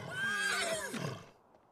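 A horse whinnies in The Sims 3, one clear descending neigh close by that fades out in under two seconds.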